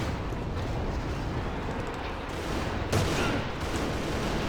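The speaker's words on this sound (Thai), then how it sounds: "ผมหยิบ RPG มาแล้วครับ โอ้โห ยิงไปเลยครับ" An RPG rocket launcher fires in the shooter game AVA, a loud roaring blast over a constant heavy battle rumble, with a sharp burst near the end.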